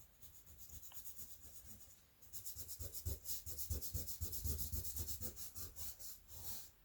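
Folded-up soft material is rubbed rhythmically on a surface for prehistoric-style cave painting, a quick series of close, scratchy strokes that start after a brief lull.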